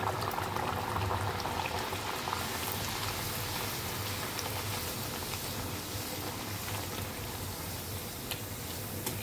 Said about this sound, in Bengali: তেলটা গরম হয়ে গেছে, আমি একটা একটা করে সব লুচি দিয়ে দেবো